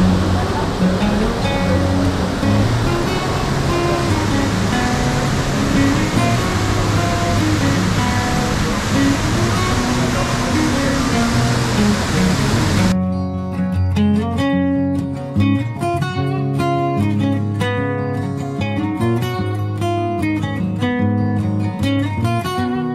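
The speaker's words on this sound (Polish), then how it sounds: "To jak widzicie, mamy taki wodospadzik." Kozjak waterfall in Slovenia roars as a loud, dense, continuous rush of falling water for roughly the first half, after which music takes over.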